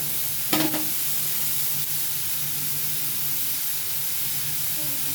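Onions sautéing in a pan, ready for ginger-garlic paste, give a steady soft sizzle and hiss throughout, with a brief scrape of stirring near the start.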